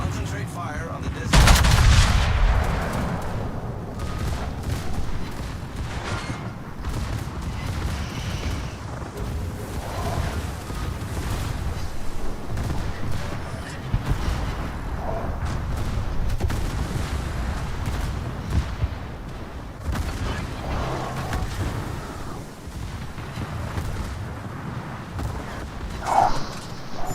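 Warship guns firing in World of Warships, opening with a loud close blast, then a steady run of booming shots and rumbling impacts, heavy and sustained, with faint voice chatter now and then.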